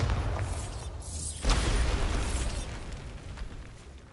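A Bombarda explosion spell from Hogwarts Legacy goes off as a single loud burst about midway, followed by a rumbling blast that slowly fades out.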